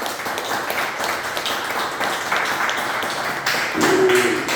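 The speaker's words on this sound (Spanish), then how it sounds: "denle un fuerte aplauso al Señor" Churchgoers at an evangelical teaching service applaud together in steady, loud, continuous clapping, with a brief tonal sound near the end.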